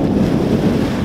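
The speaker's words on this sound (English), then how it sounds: "It's like really windy out here." Strong wind buffets the microphone in a steady, low roaring rumble with no voices, constant and loud throughout.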